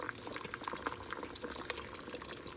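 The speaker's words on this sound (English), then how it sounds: "You hear the water boiling?" Water boiling in a pot while oil melts, a steady bubbling and crackling simmer with scattered pops, close but soft and continuous throughout, no voices.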